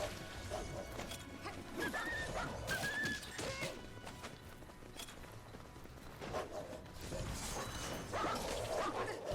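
Wolves in Drakengard 3 whimpering and yipping, with high thin whines and short yelps amid game combat noise and thuds, fairly loud and continuous.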